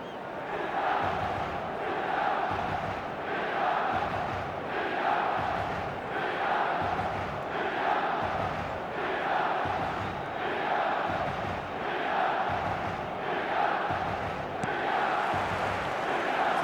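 A large football stadium crowd roars and chants on match day, a dense, continuous wall of distant voices swelling in a steady rhythmic pulse throughout, with no single voice standing out.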